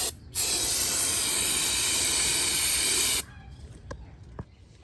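An aerosol cleaner is sprayed into the valve cover gasket groove of a BMW 328i E90 N52 engine as one loud, steady hiss of about three seconds, followed by a few faint clicks and handling sounds.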